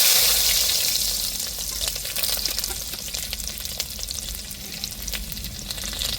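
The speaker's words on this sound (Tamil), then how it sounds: "எண்ணெய் சூடேறிட்டு வெந்தயம் நல்லா பொரியட்டும் இப்போ வெங்காயம் சேர்த்துக்கிருவோம்" Onions drop into hot oil with fenugreek seeds for a fish curry, setting off a loud, hissing burst of frying that settles into a steady, close sizzle with faint stirring, no one speaking.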